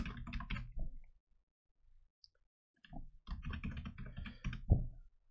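Bursts of rapid clicking keystrokes on a computer keyboard during a live stream, close and fairly quiet, with a pause in the middle before typing resumes.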